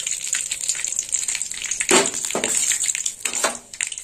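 Dry red chilli, mustard seeds and curry leaves crackle and sizzle in hot oil as a steady, close hiss, with a few louder bursts and spatters breaking through.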